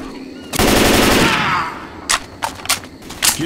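Gunfire in the Left 4 Dead 2 video game: a loud sustained automatic burst for about a second, then several separate single shots, close and sharp.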